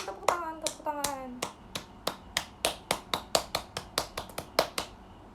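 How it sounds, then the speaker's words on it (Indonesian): Hand claps ring out in a steady series of about fifteen sharp, evenly spaced strikes, with a brief voice over the first few before the clapping continues alone. "Tepuk tangan, tepuk tangan, tepuk tangan."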